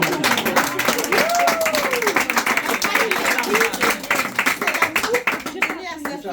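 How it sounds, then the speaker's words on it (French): Applause from an audience at a dowry ceremony in Paris, steady clapping from many hands running through most of the moment, with voices and a rising cry mixed in before it thins near the end. "On acclame"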